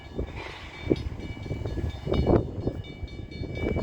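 A CN train sits stopped at a railroad crossing, a steady low rumble of idling locomotive and rail cars close by, with a few soft clanks and thumps over the hum.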